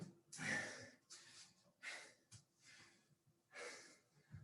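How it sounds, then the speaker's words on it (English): Heavy, gasping breaths after a bodyweight Tabata workout interval, with several loud exhales and inhales in uneven bursts, close to the microphone. "Slow that breathing down."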